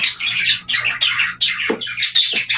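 Cockatiels call in a steady stream of shrill, loud chirps and squawks close by, with one brief lower squawk partway through, over a faint steady hum.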